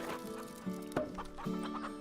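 Chickens cluck in a row of short, close, tuned calls across the farm in the Farm Together video game, with a couple of louder bursts standing out and no talking.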